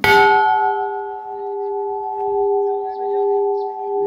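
A large bell at a hilltop temple in Dadeldhura, Nepal, struck once with a loud metallic clang that rings on as a long sustained tone with a slow wavering hum.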